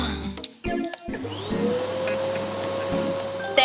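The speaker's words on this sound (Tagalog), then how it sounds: "Iyan ba ay shark na may vacuum cleaner?" A vacuum cleaner running in an animated cartoon about a little shark, a steady motor whine with a rising pitch sweep, preceded by a few brief clatters and thumps, no talking.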